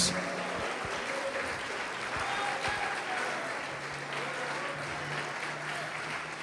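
Continuous church congregation clapping at moderate level during a sermon, a steady wash of many hands with a faint hum in the background.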